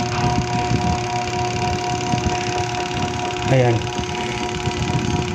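The spin dryer motor of a twin-tub washing machine runs with a steady humming whine, turning slowly and weakly, while someone speaks over it briefly.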